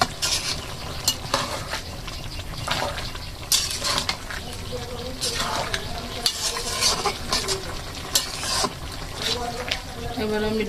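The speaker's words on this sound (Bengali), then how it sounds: "আলু দিয়ে ভালোভাবে একবারে কষিয়ে নিব।" Potatoes are stir-fried into a simmering beef curry, with repeated scraping and clattering of a spoon against the pot over a steady sizzle, in close, uneven bursts with occasional background voice.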